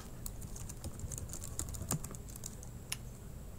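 Computer keys click in quick irregular bursts at close range, light taps with a few sharper strokes over a low background hum, no voices.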